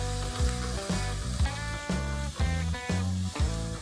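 A paste of onion, ginger and garlic fries in ghee for chicken pathia, a close crackling sizzle broken by regular scraping stir strokes at roughly half-second intervals, with no voices.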